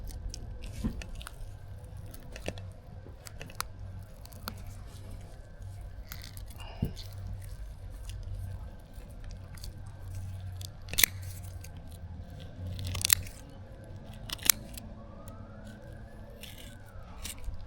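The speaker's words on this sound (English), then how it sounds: "Cut right through the middle of these bones. It can be quite tough." A knife chops down through the tough central bones of a kingfish being cleaned. A few sharp, separate cracks and crunches sound over a steady low background hum.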